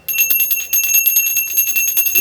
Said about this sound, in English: I'll be ringing my bell.